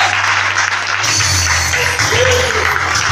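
A church congregation applauds at a worship service, a loud, steady wash of clapping that fills the space and rises into a slightly fuller burst of claps partway through.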